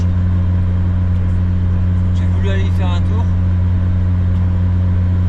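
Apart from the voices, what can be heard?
Fiat Panda engine idling, warming up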